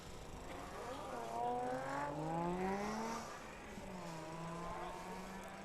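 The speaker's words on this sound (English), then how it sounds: "Here's a Focus RS. It's coming a little slow for an all-wheel drive car." A Ford Focus RS drift car on track revs and accelerates at a distance, engine pitch climbing and falling over a few seconds, faint against outdoor ambience.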